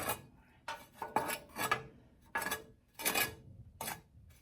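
A metal tool rakes ash across a fireplace grate, making a series of short, close scraping and rasping strokes with brief pauses between them.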